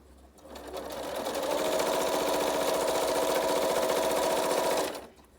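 Sewing machine chain piecing quilt block pieces runs in one close, loud, continuous burst of rapid stitching for about four seconds before stopping.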